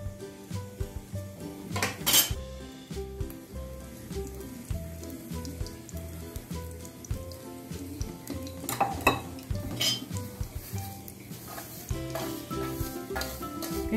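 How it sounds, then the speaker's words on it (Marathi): Ground foxtail millet roasting in ghee is stirred around a pan, giving steady scraping and clinking of a utensil against metal with a soft sizzle underneath, close and continuous, plus a few sharper knocks. "आता हे आपण तूप घालून थोडंसं भाजून घेऊया।"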